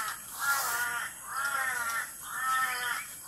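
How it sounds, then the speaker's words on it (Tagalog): Three drawn-out, harsh crow caws, one after another with short pauses between, moderately close against a steady background hiss. "Maingay yung uwak"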